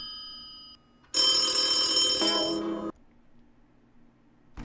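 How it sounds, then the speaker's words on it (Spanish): A telephone bell rings loudly in one sustained metallic burst of nearly two seconds, then cuts off into quiet room tone, preceded by a faint tonal beep. "Sonando el teléfono"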